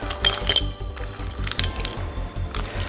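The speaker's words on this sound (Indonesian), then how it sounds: "Terus ini kita mau masukin es batu." Ice cubes dropped into a glass while making brown sugar boba milk tea, a quick series of bright clinks and clatters close by over a steady background rumble.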